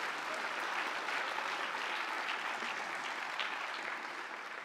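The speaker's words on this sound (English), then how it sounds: "So let's give them a round of applause." Steady, even applause from an audience at a high school band concert, many hands clapping together at moderate volume, tapering slightly at the end.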